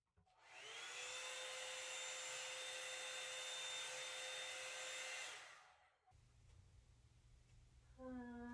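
Revlon One-Step Volumizer hair dryer brush running with a loud, steady blowing whir for about five seconds, then switching off, leaving a quieter background with a brief voice at the end.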